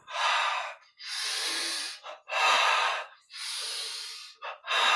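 Forceful breaths pushed out through the nose during a Kriya Yoga breathing exercise, four long airy exhalations with short sharp catches between them, close and loud, with no talking.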